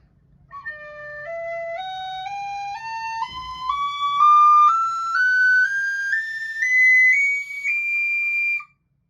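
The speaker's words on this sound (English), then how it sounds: "here is a scale from low D up to double high D" A Killarney tin whistle plays a clean ascending scale from low D up to double high D, about a dozen distinct stepwise notes, each held briefly, bright and close, with no voices.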